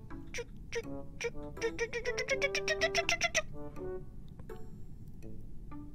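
A high, wavering kitten-like meow rises and repeats several times in a quick run of squeaky, tonal calls, fairly close and clear against a low background hum.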